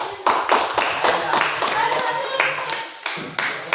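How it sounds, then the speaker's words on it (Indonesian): A school classroom claps for a student group, with bursts of distinct, fairly close hand claps in an uneven rhythm and short pauses between them. "tepuk tangan dulu untuk kelompok 2."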